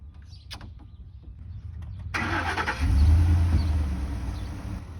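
A 1985 Mercedes 300D diesel cranks briefly and catches, settling into a loud, close, rough clattering idle that keeps running after the start.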